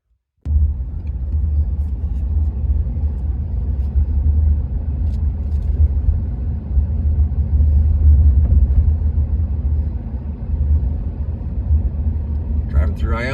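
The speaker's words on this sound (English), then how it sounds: "Driving through Ione again on our way out." A car drives through the tiny remote town of Ione, Nevada, giving a continuous low engine and road rumble from inside the cabin, steady and fairly loud throughout.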